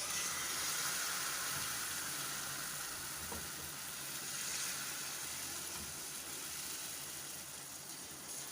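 An anda paratha, an egg-filled flatbread, fries steadily on a hot pan with a continuous soft sizzle, close up and fairly quiet, with no voices over it.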